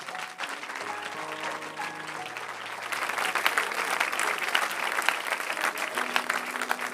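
A church congregation claps for the Lord during a French-English worship service, steady dense applause from many hands that grows louder midway and continues throughout, with a faint sustained tone beneath.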